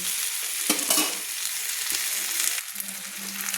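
Tomatoes, potatoes and onions stirred and fried in oil for a mourola fish jhal, a loud, close hiss of frying with a few sharp scrapes and knocks from the spoon, and no talk.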